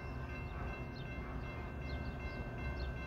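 A Norfolk Southern freight train of gondola cars rolls slowly into the station on track one at restricted speed, a steady low rumble of wheels and cars with faint high squeals and tones, heard from nearby without talk.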